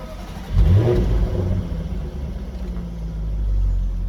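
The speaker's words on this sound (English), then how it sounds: "Now, I'm going to show you the cold start." A 2015 Jaguar F-Type with a 5-liter V8 cold-starts with a sharp crank and loud rev flare, then settles into a deep, rumbling high idle that swells again slightly near the end; no talking.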